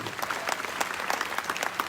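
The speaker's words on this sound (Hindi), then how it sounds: "इनके लिए जोरदार तालियां होना चाहिए।" Audience at a business motivational event applauding new achievers, dense continuous clapping at moderate level, fairly close, with a faint voice or two mixed in.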